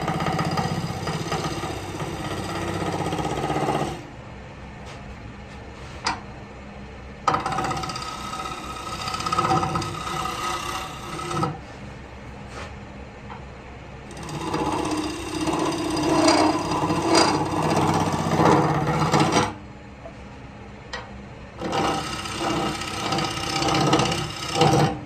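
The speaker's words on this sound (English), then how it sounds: "Alright, let's try and get this smoothed out" A wood lathe turns a bowl, its steady motor drone broken by long stretches of rough scraping and cutting from the tool, with pauses where the cutting eases between passes.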